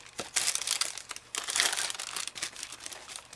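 Paper folded over in a journal, close crinkling and crumpling in several bursts with brief pauses between them, fairly loud and with no talking.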